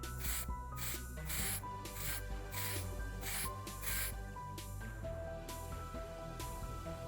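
Short repeated bursts of aerosol metal paint sprayed onto a Range Rover L322 wiper arm in a workshop, several hissing puffs in a steady rhythm over a background of tonal hum.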